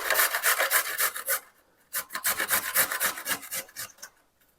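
Small broccoli florets rasp against a kitchen grater in rapid, close scraping strokes, two rhythmic runs separated by a short pause.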